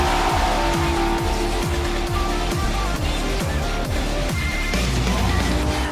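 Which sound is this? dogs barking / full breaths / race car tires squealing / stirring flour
race car tires squealing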